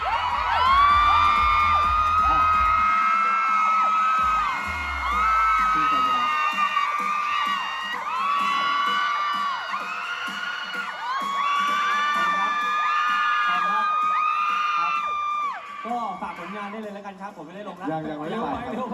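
A Thai fan-event audience screams and cheers loudly and continuously, shrill voices rising and falling, with a brief dip near the end before more shouting.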